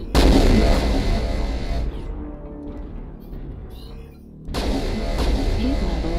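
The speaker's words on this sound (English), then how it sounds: "you're actually vomiting fucking 8 large lasers" A Marauder II mech in MechWarrior Online fires a volley of eight large lasers, a loud, dense burst that dies back for a couple of seconds and then erupts again just as loud.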